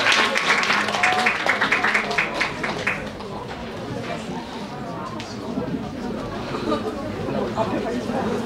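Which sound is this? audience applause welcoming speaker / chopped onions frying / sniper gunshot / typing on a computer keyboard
audience applause welcoming speaker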